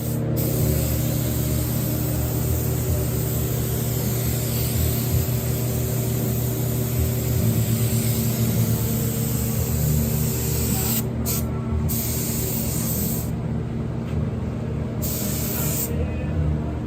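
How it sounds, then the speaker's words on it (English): Spray gun applying base coat to a car body in a paint booth, a steady loud hiss of air and atomizing paint running continuously, with brief breaks near the end as the trigger releases. "We're gonna go ahead and start scuffing on this stuff and shoot a little bit of base coat."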